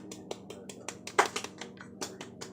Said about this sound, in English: Golf clap that up.